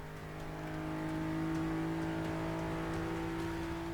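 A Nissan GTR engine in Forza Motorsport 6 drones steadily at high speed in fifth gear, a continuous loud, sustained tone with strong harmonics and no breaks.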